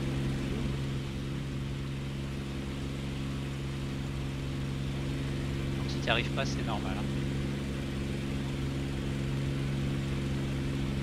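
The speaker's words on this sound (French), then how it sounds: "j'ai un bruit moteur qui est quand même assez important" Warbird piston aircraft engine drone from the DCS flight simulator game, a steady loud hum running throughout, with someone speaking briefly over it.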